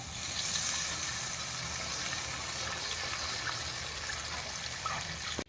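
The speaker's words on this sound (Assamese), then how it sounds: "এই পানী দিলোঁ তৰকাৰীত" Water pours steadily into a pot of curry, a soft continuous gushing hiss lasting several seconds.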